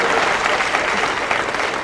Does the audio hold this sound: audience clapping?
yes